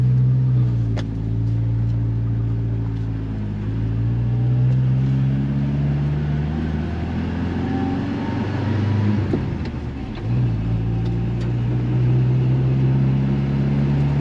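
An old Ford Ranger pickup truck without power steering drives along, its engine a loud, steady, close drone that rises and dips slightly in pitch throughout.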